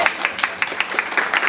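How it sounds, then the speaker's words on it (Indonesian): Brisk, rhythmic clapping close by at a school farewell gathering for graduating students, crisp claps landing about five or six times a second in an even beat. "Tepuk tangan dulu dong."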